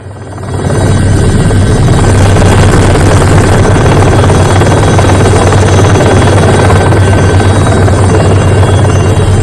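An Indian Air Force helicopter on a cyclone rescue in Sri Lanka roars loudly and continuously nearby, its rotor thudding in a dense, steady drone that swells up within the first second.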